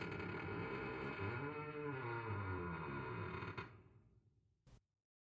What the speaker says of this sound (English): you hear a rattling coming from the back, followed by the sound of a door slowly opening